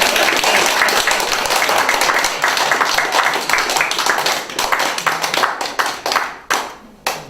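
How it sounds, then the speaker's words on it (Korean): Lecture audience clapping together, a dense burst of hands that stays full for several seconds, then thins into scattered, separate claps before fading out. "심심한데 박수 한번 치실래요?"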